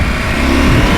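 Brief close engine roar from a Husqvarna Norden 901 motorcycle, loud and continuous as the throttle is rolled on, with no voices over it.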